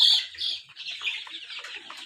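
High-pitched chirping and peeping from many 13-day-old Sonali chicks on a poultry farm, continuous and fairly close, with no other sounds.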